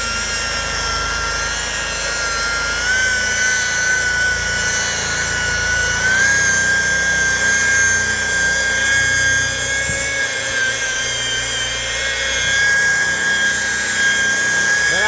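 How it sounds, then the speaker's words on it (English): A power buffer polishing the non-skid deck of a boat at high speed gives a steady, loud machine whine with a constant high tone throughout, no talking. "we're turning that buffer up too"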